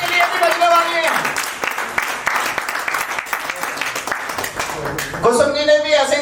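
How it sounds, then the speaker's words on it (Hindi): An audience gives a round of applause for Kusum ji at a Forever Living Products achievers' celebration. Loud, sustained clapping fills the middle, with a voice speaking over the start and again at the end. "जोरदार तालियां, थैंक यू कुसुम जी"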